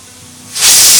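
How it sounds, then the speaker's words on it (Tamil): Pressure cooker releasing steam while mutton cooks on a stove: a low hum gives way to a sudden loud, close hissing whistle burst that holds briefly and then cuts off. "ஆறு விசில் வந்ததும் ஸ்டவ் ஆஃப் பண்ணிவிட்டு குக்கரை ரெஸ்ட்டில் விட்டுடலாம்."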